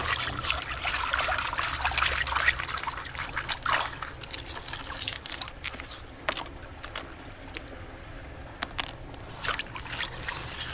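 Water trickles and gurgles steadily through a freshly cleared shallow creek channel, with occasional small splashes and clicks, fairly quiet and close.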